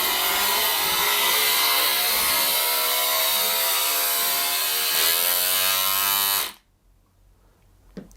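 A Makita detail sander runs at a steady high-pitched buzz close by, then is switched off and spins down abruptly into near silence with a faint click at the end.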